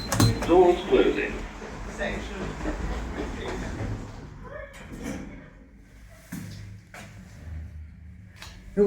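A platform lift at Haslemere railway station announces itself, then its doors rumble shut with a few distinct clunks. The sound is close, over low machinery hum.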